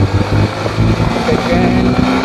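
A Yamaha FZS-V3 motorcycle engine pulls steadily in first gear on a road, its low, continuous drone held at a loud level alongside wind rush across the microphone.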